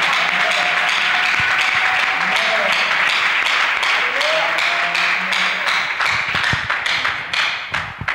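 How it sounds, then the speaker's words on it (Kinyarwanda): Church congregation applauding during an evening service, a steady wash of clapping that swells and carries through, with scattered voices underneath. "Dukomere Imana amashyi cyane"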